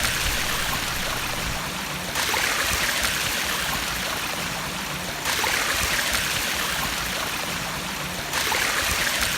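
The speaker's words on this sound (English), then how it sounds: "the only dam that I know of that is overflowing at the start of summer in Western Australia" Water pouring over an overflowing dam spillway at Oakley Dam in Western Australia at the start of summer, a steady broadband rush that swells louder and softer in alternating stretches, with no talk.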